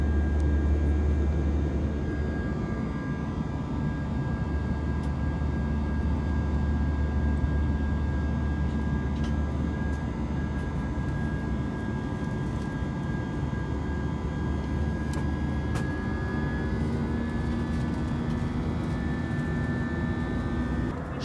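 British Airways Airbus A320-200 cabin after takeoff from London Heathrow, a steady loud engine drone and airflow roar with a faint rising tone, continuous and unbroken, no speech.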